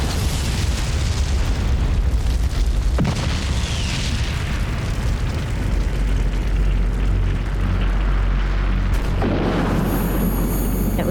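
Explosives at a bunker go off in a massive, continuous roaring blast, loud and saturated throughout, with a rumbling surge partway through and a harsh hiss near the end.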